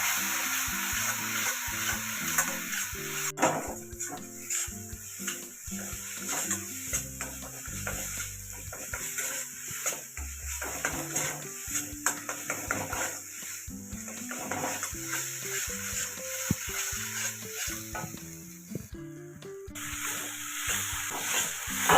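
Coriander powder and salt being sautéed with spices in a pan for eggplant malai posto, with steady stirring and sizzling over background music throughout, loud and continuous.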